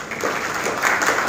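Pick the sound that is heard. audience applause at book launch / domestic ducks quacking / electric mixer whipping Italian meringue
audience applause at book launch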